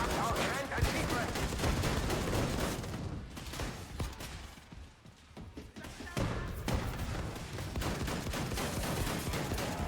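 Shotgun blasts in a video game, repeated heavy booming shots over a dense, noisy action mix of impacts and effects, with a few quieter gaps before the firing resumes loudly.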